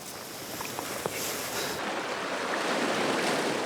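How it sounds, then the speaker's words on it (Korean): Sea waves breaking against rocks on the coast of Ulleungdo: a continuous wash of surf mixed with gusting wind, fairly soft and distant, with no one talking. "바위를 때리는 파도 소리도"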